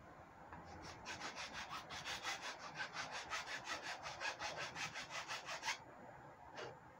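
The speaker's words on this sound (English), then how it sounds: "I'm going to try the round side of this file stick." Wood filed with the round side of a file stick, a steady back-and-forth rasping of about twenty even strokes, close and moderately quiet, then a brief pause and one last stroke.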